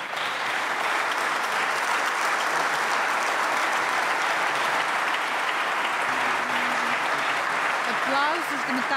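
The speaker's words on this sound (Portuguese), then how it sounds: "Aplausos de metade do hemiciclo." Sustained applause fills half of a parliament chamber at a solemn session, dense and steady clapping from many hands close by, with a few voices rising faintly near the end.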